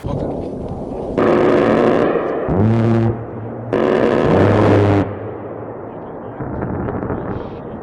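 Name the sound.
A-10 Warthog strafe run gunfire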